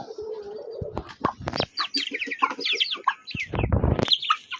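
Several chickens cluck and chatter close by in a busy, overlapping flurry of short calls, with no talking.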